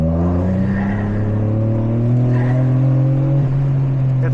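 A turbocharged Toyota GR Corolla engine revs steadily under load, a loud, continuous drone climbing slowly in pitch with a faulty turbo showing heavy boost lag, no talking.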